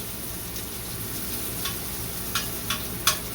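Onions fry in a pan on medium heat with a steady, soft sizzle and a few sharp ticks and pops near the end, with no talking.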